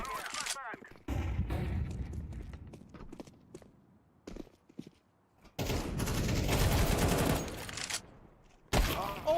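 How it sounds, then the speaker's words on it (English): A flashbang grenade goes off in a shooter video game amid bursts of gunfire, with loud broadband blasts and crackling shots coming in several separate waves. "Flashbang."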